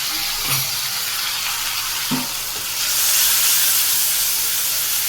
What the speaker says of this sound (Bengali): এরপরে দেবো আমি পেঁয়াজ বাটা, আর দেবো রসুন বাটা।